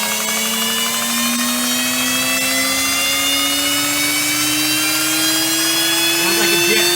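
A Heretic Hyperlite 2x72 belt grinder motor runs at about half speed on a variable frequency drive, giving a loud, steady whine with a slowly rising pitch and no break throughout.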